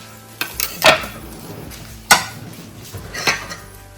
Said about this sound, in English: I'll transfer this over to the plate and serve it with sides made by Ginger and our daughters